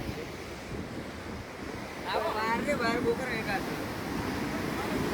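Sea waves roll in at the Dwarka coast as a continuous rushing surf mixed with wind buffeting the microphone, with a short burst of voices partway through.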